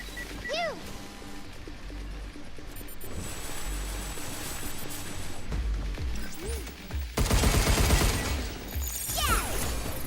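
Enemy gunfire in a video game sounds as a steady rattle of shots through a noisy, cluttered game mix, getting louder and harsher toward the end, with electronic chirps and effects over it.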